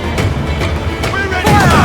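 Cannon fire in Assassin's Creed IV: Black Flag during a naval battle, booming blasts and crashes layered over a dense, continuous battle din, with shouted crew voices mixed in.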